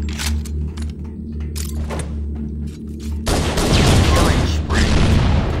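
Gunfire from a multiplayer shooter video game, sustained bursts of shots that swell into a loud, dense barrage partway through, with players talking over the action.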